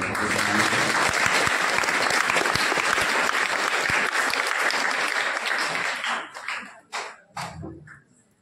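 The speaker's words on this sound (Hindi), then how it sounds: "और आप सबका जोरदार तालियां बजाने को" An audience at a memorial honour ceremony in Sujangarh claps loudly and continuously, then the applause thins into scattered claps and dies away.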